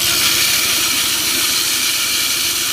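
A reel mower spins steadily through backlapping, its reel whirring against the bed knife in a continuous loud, even drone with a faint gritty hiss layered on top.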